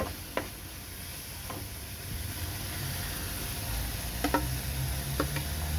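Tofu and Chinese kangkong sautéing in a pan, a quiet steady sizzle with a few sharp clicks of a utensil against the pan scattered through, plus a low background rumble.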